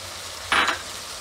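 Chopped tomatoes hit a pan of cooked green beans (fansi shaak) on low heat, setting off one short, sharp burst of sizzling over a quiet background hiss.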